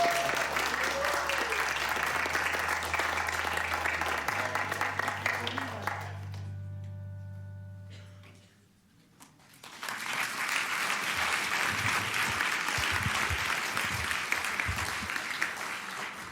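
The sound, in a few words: audience applause for chemistry teacher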